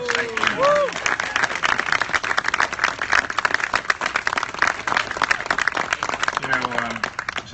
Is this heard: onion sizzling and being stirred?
no